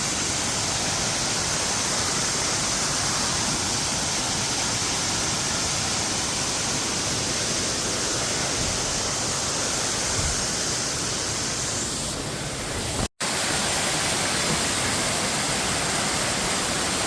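An upper waterfall on South Mountain, North Carolina, roars in a loud, steady, unbroken wash of rushing water, with no voices.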